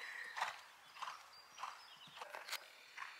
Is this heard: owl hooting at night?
no